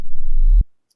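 An acoustic measurement stimulus plays as a loud, steady low tone that pulses rapidly for about half a second, then stops abruptly with a short thump.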